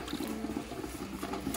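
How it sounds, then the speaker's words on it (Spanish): A little water poured into a pot over a wood fire while a banana cake bakes, a brief steady splashing and trickling close by. "ya se secó y le voy a colocar un poquito más de agua."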